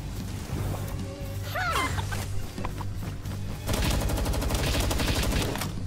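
Assault rifle gunfire in the game Palworld, starting with sparse shots and chicken-like clucks before dense, rapid automatic bursts crackle loudly through the final seconds.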